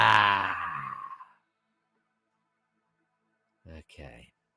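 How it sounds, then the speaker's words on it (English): A group in a guided breathing exercise lets out a long, loud, noisy exhale that fades over about a second, followed by silence and then a short breathy sound near the end. "let it out with all the noise you can"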